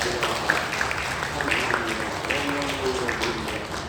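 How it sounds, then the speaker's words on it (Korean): Church congregation clapping in praise during a Sunday worship service, a steady wash of applause that holds for the whole stretch with voices mixed in. "우리 하나님께 우리 감사와 찬송과 영광의 박수를 올려드리겠습니다"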